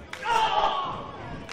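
A wrestler's sharp open-hand chop lands on an opponent's chest during a falls count anywhere match, followed by a loud, sustained crowd roar.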